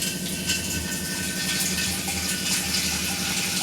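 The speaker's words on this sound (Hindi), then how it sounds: "अब इसमें हम आरओ का पानी भर देते हैं।" RO-purified water pours steadily into a new clay matka, giving a continuous loud rushing and splashing sound with no breaks or voices.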